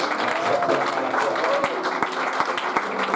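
A church congregation applauds the Lord during a sermon, a dense burst of clapping from a crowd with voices calling out over it.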